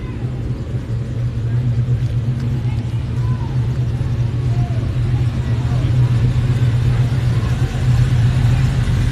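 Cars rolling along a street in Savannah on a steady low engine rumble, continuous and fairly close throughout, with faint speech in the background.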